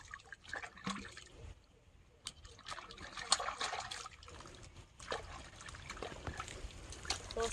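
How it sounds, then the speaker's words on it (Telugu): Water trickles and splashes steadily while freshly dug-up tubers are rinsed clean, with scattered clatters and knocks throughout. "మరొకసారి నీళ్ళు పోసి శుద్ధంగా బాగా క్లీన్ చేసుకోవాలి"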